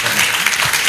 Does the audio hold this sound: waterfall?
no